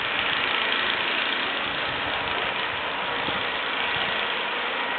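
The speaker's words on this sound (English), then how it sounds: "You can hear the snow blowers going, everybody shoveling out down the street." Snow blowers run somewhere down a snowy residential street, a steady, muffled mechanical engine drone holding evenly throughout with no voices over it.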